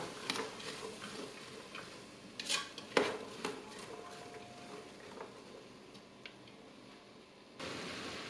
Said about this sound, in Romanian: Cât timp legumele sunt la călit, amestecăm periodic.